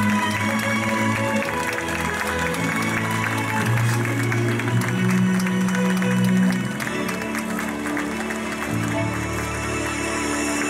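Spectators give sustained applause for the Korean and US women's hockey players and children at the Ibaraki international tournament's third-place match. The steady, dense clapping fills the arena over a background of tonal sound from music or the public address.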